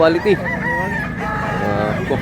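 A rooster crows loudly and close at a rural gamefowl sale in Mantalungon, Cebu, one long drawn-out call that fills the moment, with brief clucks around it.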